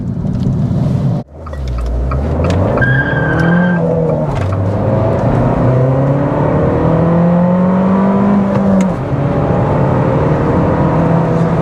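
An Abarth F595C engine revs hard and climbs through the gears toward a redline near 6,000 RPM, a loud, raspy, rising whine that drops and builds again repeatedly.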